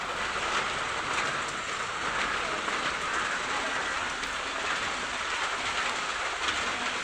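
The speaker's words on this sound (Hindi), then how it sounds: "एकदम जोरों शोर से बारिश चल रही है।" Heavy rain pours down in a steady, dense roar with no let-up, a constant hiss filling the space.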